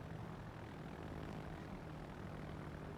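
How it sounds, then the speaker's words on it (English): Propeller fighter aircraft launched from an aircraft carrier in the naval game World of Warships, a steady droning engine hum that stays even and moderately loud throughout, with no voices. "Fighter airborne."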